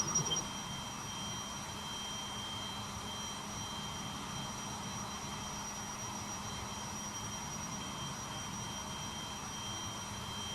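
Sukhoi Su-47 jet engine in a flight simulator, a steady, moderately quiet turbine roar with a thin high whine, holding constant throughout without any change in pitch or loudness.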